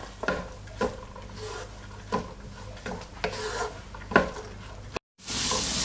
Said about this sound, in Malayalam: ഈ വെജിറ്റബിൾസ് ഇനി നമുക്ക് നല്ലോണം വഴറ്റാം